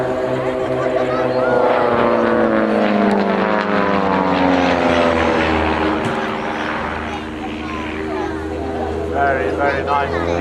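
Two display aircraft fly a head-on pass at the Welshpool Air Show, their engines droning loudly with shifting pitch throughout as a commentator talks over them.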